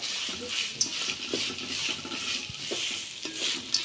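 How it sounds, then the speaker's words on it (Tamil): Grated coconut sautéing in oil, stirred in the pan: a steady low sizzle runs throughout, broken by soft scraping stirs and occasional small clicks, fairly quiet and with no voices. "தேங்காய் சேர்த்து நல்லா வந்து கலந்து விட்டுடலாம்"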